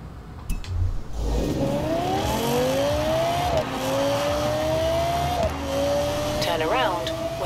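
Lexus LFA engine in Forza Horizon 4, revving and accelerating through rising gear pulls with a high, whining exhaust note, a shift around midway and a squealing flourish near the end, loud and close throughout.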